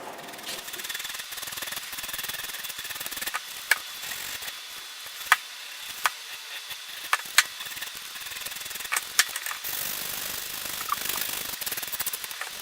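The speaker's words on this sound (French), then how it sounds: "Je continue mon limage." Electric file buffing a fingernail coated with resin and powder, a steady high buzzing grind with small sharp clicks scattered through, close and continuous.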